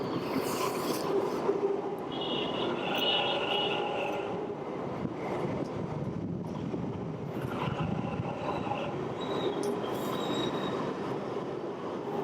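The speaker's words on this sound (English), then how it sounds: "That's the metro right there." A metro train passes close by at an outdoor spot in India, its rumbling wheels and metallic squeal holding steady for several seconds before easing slightly, with no talking over it.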